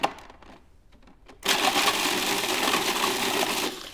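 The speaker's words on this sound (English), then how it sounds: "I'm just gonna break them up into the food processor." A food processor whirs into action grinding graham crackers with cinnamon for a cheesecake crust: a few quiet clicks and rattles, then a sudden loud, steady grinding roar that runs for a couple of seconds before easing off.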